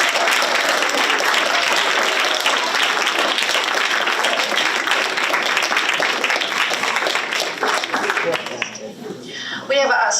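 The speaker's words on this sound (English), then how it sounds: "Let's give them a round of applause." Audience applause for student storytellers at a school storytelling festival, loud dense clapping from a large crowd sustained for about eight seconds before thinning out and fading, with a voice emerging at the end.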